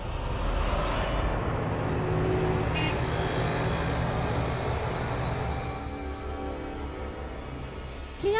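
An auto rickshaw drives along a road, with a steady rumbling engine and road noise throughout. The noise eases slightly near the end.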